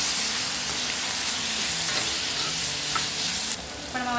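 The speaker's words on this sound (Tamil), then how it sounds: "அடுத்து நான் தக்காளி சேர்த்து வதக்கிக்கிறேன்." Tomatoes being sautéed in a hot pan for Chettinad crab masala sizzle loudly and steadily, with stirring scrapes close by throughout.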